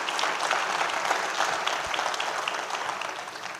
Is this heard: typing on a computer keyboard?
no